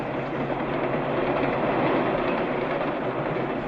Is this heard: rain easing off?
no